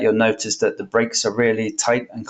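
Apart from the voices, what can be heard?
No everyday noise stands out behind the speech.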